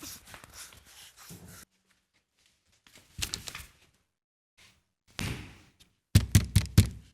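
Knocking on a locked door, several bursts of sharp raps separated by silent gaps, the last burst loud and close.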